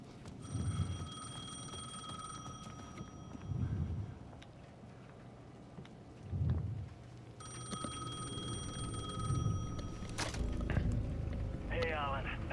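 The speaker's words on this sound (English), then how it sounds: "The payphone at the edge of the plaza was ringing again." Old payphone ringing in Alan Wake 2, its bell trilling in two bursts of repeated rings over a low, pulsing ambient drone, with a brief mechanical clatter near the end.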